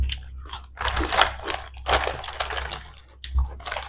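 Potato chips crunched and chewed during an eating challenge, a series of loud, close crisp bites and chomps in irregular bursts, with no talk over them.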